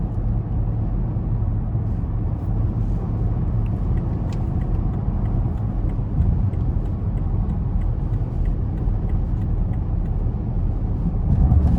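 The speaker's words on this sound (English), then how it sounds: "I'm doing 77 here, and it's just very quiet in the cabin." Steady low road rumble and muted tire and wind noise inside the cabin of a 2017 BMW Alpina B7 cruising at about 77 mph on the highway, even and subdued throughout with no talking.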